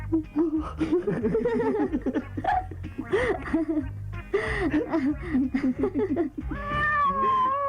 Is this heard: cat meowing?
yes